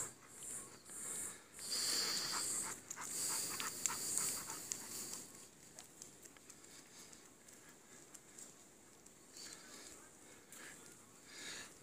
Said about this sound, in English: My trusty old guard dog.